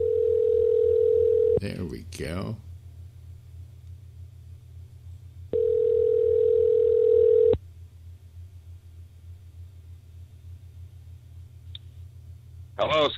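A phone line rings with two long steady tones separated by a pause, with a brief voice and a clicking noise in between.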